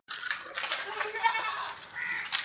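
Beetal buck goat at a livestock sale in Kerala, letting out one long, wavering, nasal bleat that sounds close and fills nearly the whole moment.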